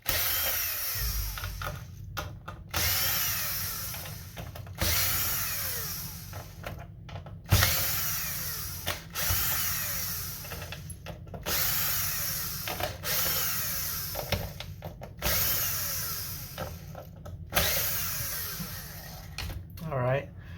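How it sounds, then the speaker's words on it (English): A power screwdriver backs screws out of an Xbox Series S console, whirring in repeated bursts of about two seconds, each ending in a brief pause, loud and close, with faint talk underneath. "I like to go ahead and take these screws out as well"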